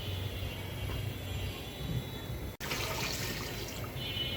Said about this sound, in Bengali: এখানে এখন আমি পানি দিয়ে দিব